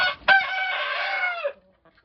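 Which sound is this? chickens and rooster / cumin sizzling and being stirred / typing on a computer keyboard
chickens and rooster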